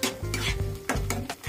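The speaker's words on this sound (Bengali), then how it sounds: "এবার মশলাটা আমি খুব সুন্দর করে কষে নেব" Spice paste with salt and turmeric sizzles in hot oil while a spatula scrapes and stirs it around the pan in quick, close, repeated strokes.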